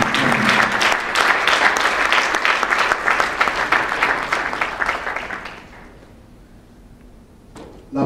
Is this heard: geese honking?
no